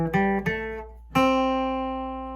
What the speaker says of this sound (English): you're going to play this little lick that comes from a C country scale